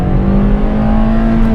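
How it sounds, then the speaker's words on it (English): A car engine revving in neutral holds a loud, steady high rev around 5000 rpm, a sustained whining drone close by with no voices. "Revving the motor, and it revs till 5000 rpm in neutral."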